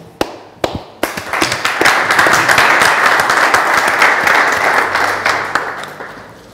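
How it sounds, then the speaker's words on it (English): A round of applause from a meetup audience at a maker space: a few sharp isolated claps at first, then swelling into steady clapping from a modest crowd that fades toward the end. "give him a round of applause"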